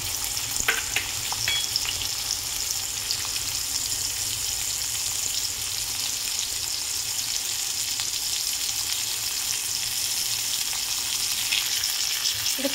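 Onion, curry leaves and sliced garlic sauté in a pan with a dense, even sizzle and a few light stirring taps near the start.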